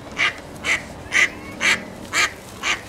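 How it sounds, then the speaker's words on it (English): A mother duck quacks six times in a steady, evenly spaced series, each call loud and close against a quiet outdoor background. "Mama Duck, just go away."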